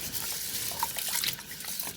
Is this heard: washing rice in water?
yes